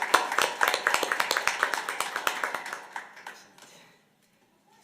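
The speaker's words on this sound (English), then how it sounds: "Let's give them another round of applause." Audience at a school district board meeting applauding students, a small group clapping in quick sharp bursts that thin out and stop after about four seconds, leaving near silence.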